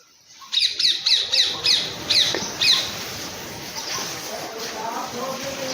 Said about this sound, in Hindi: पक्षियों की कलकल